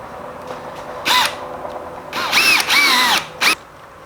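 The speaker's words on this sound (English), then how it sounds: "we're gonna put some screws in, and that'll hold it in place" A power drill drives screws into a wooden fireplace mantle beam, with a short whirring burst followed by two longer high-pitched runs and a brief final spin, close and loud.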